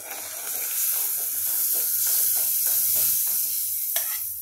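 Dried curry leaves sizzle in hot oil in a pan, a close, continuous crackling hiss with repeated short scraping stirs and a sharper clack near the end, no voices.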